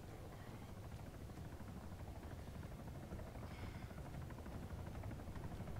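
A helicopter in the ARMA 3 military game gives a steady, dense rotor and engine drone that holds unbroken throughout, fairly faint and even.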